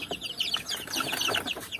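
Chickens in a poultry house clucking and chattering in quick overlapping bursts, several birds close by with busy, continuous calls and no talking.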